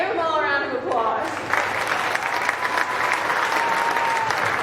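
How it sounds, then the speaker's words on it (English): Loud, sustained applause from a county fair crowd for the 4-H exhibitors at a celebrity showmanship event, with dense clapping and crowd noise throughout. "give them all a round of applause"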